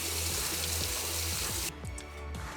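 Tap water running over a Cosori air fryer basket during a quick rinse, a steady close rush of splashing water that shifts and lightens near the end.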